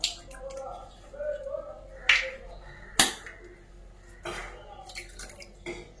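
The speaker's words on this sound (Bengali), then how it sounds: "2টো ডিম আমি বাটির মধ্যে ফাটিয়ে নিয়ে নেব।" Two eggs are cracked into a bowl of wheat flour in a home kitchen, giving a couple of sharp, quick cracks among faint taps and clinks at close range.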